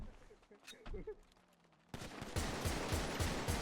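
Rapid gunfire bursts from a FiveM (GTA V) online game session, loud and dense from the midpoint onward, preceded by quieter game sounds and voices talking.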